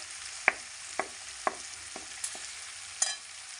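Potatoes with turmeric fry in oil under a steady soft hiss, while a spatula stirs with light scrapes and taps roughly every half second; no one speaks.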